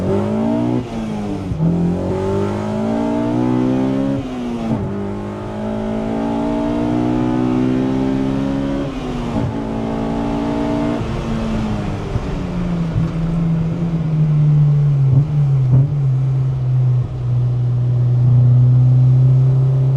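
A K-swapped Honda EK1 engine with individual throttle bodies revs repeatedly in sharp bursts, climbing to high pitch and dropping back, then settles into a steady loud drone.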